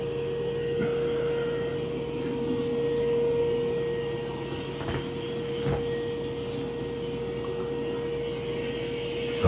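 A Mova V50 robot vacuum running on carpet gives a steady motor whine with a strong tonal hum, broken by occasional soft knocks and bumps as it works across the floor, with no talking.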